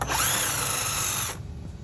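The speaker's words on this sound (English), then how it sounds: "I'm going to use a 7/8 socket to remove this bolt here." A power driver with a 7/8 socket spins out a bolt on a pool DE filter, giving a loud, close, continuous whir for just over a second before it cuts off into quiet.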